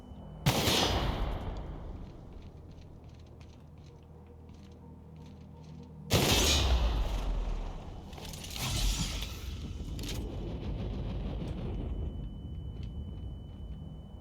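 Bombs explode in a video game, two heavy booming blasts roughly six seconds apart, each with a crackling, rumbling tail and debris-like rattles, set against a low steady drone with no talking.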